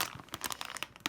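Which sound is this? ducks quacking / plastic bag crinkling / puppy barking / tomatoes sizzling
plastic bag crinkling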